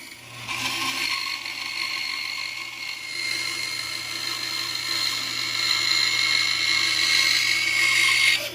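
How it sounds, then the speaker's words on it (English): A power sander smooths the cut edge of a child's wooden chair seat, a steady continuous whine with a low motor hum running for the whole stretch, close and fairly loud, growing slightly stronger toward the end. "take it over to the sander and clean it up."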